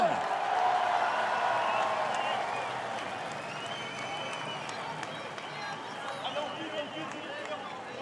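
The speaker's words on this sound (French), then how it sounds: "Un grand bravo, s'il vous plaît, à tous ces grands sportifs." Crowd applause for athletes at the opening of the Fêtes de Bayonne, a broad sustained wash of clapping and cheering that stays loud throughout, slightly easing after the first couple of seconds, with voices mixed in.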